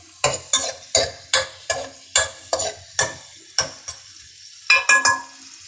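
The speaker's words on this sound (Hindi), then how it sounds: "सबसे पहले हमने इसके अंदर प्याज को ऐड कर लेना है। प्याज को आपने गोल्डन कर लेना है।" Onions fry in oil for a chicken pulao while a spoon scrapes and stirs them in a sharp, regular rhythm. There are about a dozen distinct strokes over the sizzle, which pauses briefly before a final quick burst of stirring.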